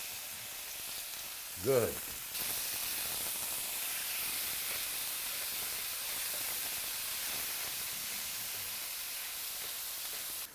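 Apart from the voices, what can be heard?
beef for stroganoff sizzling in the pan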